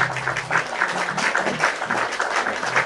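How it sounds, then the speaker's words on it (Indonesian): An audience at an Indonesian discussion forum claps steadily throughout, a continuous rolling patter of many hands with slight swells, fairly close and loud, and only a faint murmur of voices underneath. "Tepuk tangan dulu teman-teman."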